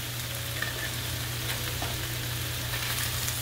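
Chicken thighs frying in their own rendered fat in a pan, a steady soft sizzle with faint crackles and a constant low hum beneath, even and unbroken throughout.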